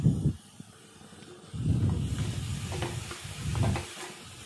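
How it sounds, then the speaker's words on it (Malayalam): Chopped brinjal tossed with turmeric and salt in a pan: soft scraping stir strokes come in two or three bursts over a faint hiss, close and moderately quiet, with no talking. "വഴുതനങ്ങ നുറുക്കി വെച്ചിട്ടുള്ളത് അതിലേക്ക് ഇട്ട് കൊടുക്കുക ആവശ്യത്തിന് മഞ്ഞൾപ്പൊടിയും ആവശ്യത്തിന് ഉപ്പും ഇട്ടിട്ട് നല്ലോണം ഇളക്കുക"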